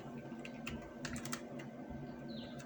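Typing code on a computer keyboard, a close, quiet run of rapid clicking keystrokes over a steady background hum, with no talk.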